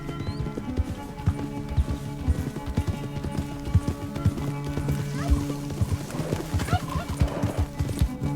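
Horse galloping in a race in the video game Red Dead Redemption 2, steady rapid hoofbeats close by with a busy game soundtrack around them, no talking.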